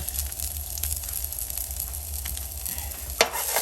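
Sliced garlic and crushed red pepper sizzle steadily in a pan, a soft continuous fry with light stirring and one sharper clatter near the end, no voices.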